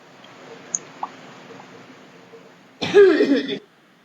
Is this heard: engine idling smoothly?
no